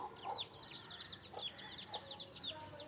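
Country chickens clucking while pecking at evening feed, a run of soft, repeated close clucks and chirps in quick succession, fairly faint, with no talking.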